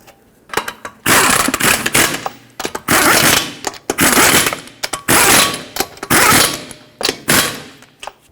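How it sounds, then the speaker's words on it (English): An impact tool drives the wheel lug nuts on a 2006-2010 Hyundai Sonata in repeated loud, close bursts of rattling whir, each lasting about a second, with short gaps between them. "We'll bottom them out and torque them to 79 foot-pounds in a cross pattern to seat the wheel properly."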